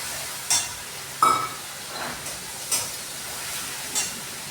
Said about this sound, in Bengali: দিয়ে এটাকেও একটু লাল লাল করে ভেজে নিতে হবে।